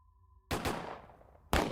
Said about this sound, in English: there's a crack like a gunshot, and then another, and then another